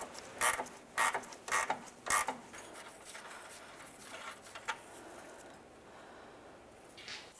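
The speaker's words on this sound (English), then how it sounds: "Once you have it broken free, it might be easier with a ratcheting wrench." A ratcheting wrench turns the nut on a Watts link track bar: four quick, fairly loud ratchet bursts in a row, followed by fainter creaks and clicks against a quiet background.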